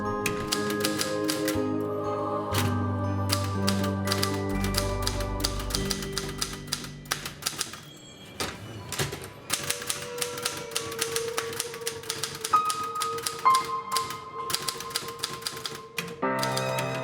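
Typewriter keys struck in steady runs of sharp mechanical clacks, with pauses and a few carriage sounds, loud and close over a background hum, no talking.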